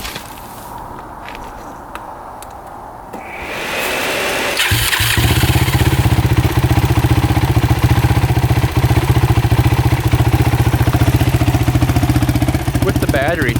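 A motorcycle engine, just back together after carburetor gasket work, is cranked with a whirring starter and catches, settling into a loud, steady close idle with rapid regular firing, after some faint clatter and handling noises.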